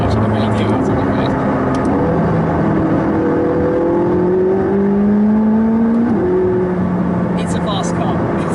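A McLaren 675LT accelerates on an open road, a loud continuous engine drone with rising pitch through the gears, steady and close from inside the car.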